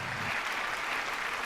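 Audience applauding to welcome the Route team, winners of Best Production House in Tamil Nadu for the film Maharaja, onto an awards stage: dense, steady clapping from a crowd, filling the hall evenly throughout.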